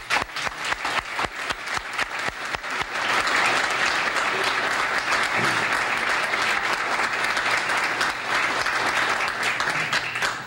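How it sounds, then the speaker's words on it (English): Sustained applause for the Eastchester High School girls softball team after their win, beginning as scattered sharp claps and swelling after a few seconds into dense, steady clapping from a large crowd that carries on to the end. "I have to give them an applause for just winning"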